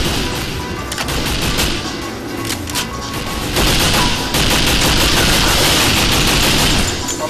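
Sustained gunfire in a firefight in the 007 NightFire video game, a dense, loud rattle of automatic weapons and impacts that grows heavier midway and stays continuous throughout, with no talk.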